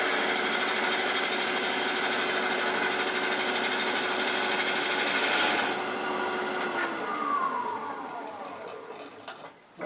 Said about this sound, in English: I can switch to my large Allen Lacer skew and take a finishing pass